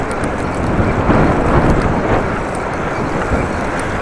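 Strong, heavy wind roars steadily and close into the microphone of a cyclist riding among trees, with gusts swelling and easing as the bike rolls along.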